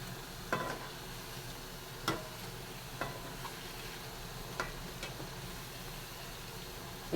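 Onion vada fry in oil on a stove with a soft, steady sizzle, broken by a few light ticks and clinks of a utensil at irregular moments. The sound stays faint and close, with no voices.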